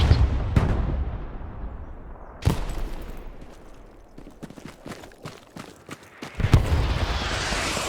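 Artillery fire in the WWII shooter Hell Let Loose: a handful of heavy booming impacts, some near and loud, others distant, scattered across a battlefield ambience with crackling small-arms fire between them.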